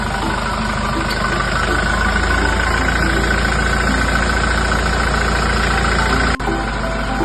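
A car engine idles steadily and loudly, a continuous close rumble with a faint mechanical hum that barely changes and has one brief dip near the end.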